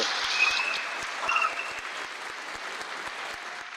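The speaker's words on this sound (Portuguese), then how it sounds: "isso merece uma salva de palmas" Audience applause at a legal debate: a steady wash of clapping from a crowd, swelling briefly near the start and then holding level to the end, with no voices over it.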